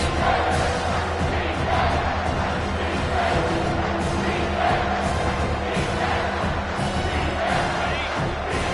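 Loud, continuous crowd roar filling a football stadium while the defense is on the field, steady throughout with swelling cheers and no break in the noise.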